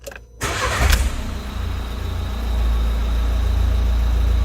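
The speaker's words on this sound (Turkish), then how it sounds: "Şimdi bir de motoru çalıştırıp bakalım." A Renault car's engine cranks briefly and catches, then settles into a steady low idle rumble heard up close with no talking.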